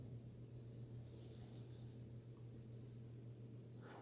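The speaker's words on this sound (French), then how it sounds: "Quant aux alarmes, elles sonneront pendant 10 secondes." A Casio AMW-S820 analog-digital wristwatch alarm sounds in four evenly spaced pairs of short, high, thin beeps over a low steady hum, with no talk.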